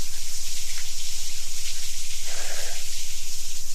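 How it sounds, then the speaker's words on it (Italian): A waterfall inside a natural cave gives a loud, steady roaring hiss of falling water, continuous and close, with a brief swell of deeper gushing partway through. "Qui siamo sotto la cascata, nella grotta naturale"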